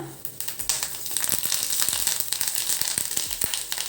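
Curry leaves drop into hot oil and crackle with sharp popping bursts over a steady hiss, the spitting loud and close, during the frying of aloo chooda, a potato snack.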